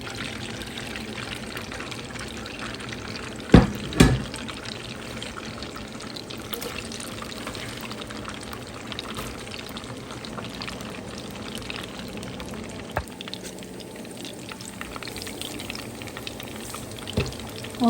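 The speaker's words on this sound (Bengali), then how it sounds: "তো এখানে আর একটু তেল অ্যাড করবো।" Cooking oil poured into a pan during home cooking, a steady soft pour with faint sizzling beneath and a couple of brief clinks, no talking.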